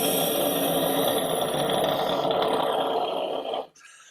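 A human voice imitates a hairdryer with a steady, breathy whooshing hum that holds for about three and a half seconds before cutting off abruptly.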